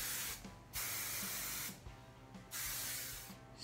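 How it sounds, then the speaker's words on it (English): Hairspray hisses out of an aerosol can onto styled vintage poodle-style hair in four close, steady bursts separated by short gaps. "you can start spraying with hairspray"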